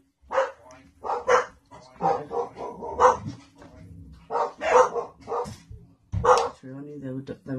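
Dogs bark in short bursts indoors, several loud yaps scattered through the stretch, mixed with a person talking close by.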